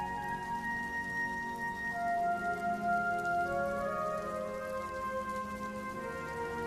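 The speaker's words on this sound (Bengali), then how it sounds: "বেরোতে না বেরোতে বৃষ্টিটা চলে এলো।" Steady rain patters across the whole stretch, a continuous wash of drops with faint tonal hum running underneath, no voices.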